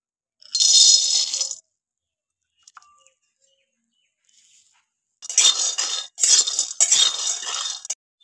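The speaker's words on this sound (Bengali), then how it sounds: "চীনাবাদামটা একটু ভেজে নেই আগে।" Peanuts being dry-roasted in a pan for homemade Horlicks give off a clattering, rattling sizzle of nuts against metal in two bursts, one short and then a longer stretch of stirring, with quiet gaps between and no talking.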